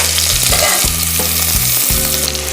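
Sliced onions fry loudly in hot oil with whole spices such as cloves, mace and bay leaf for a chicken pulao, a close, intense sizzle under a low hum that briefly shifts pitch several times.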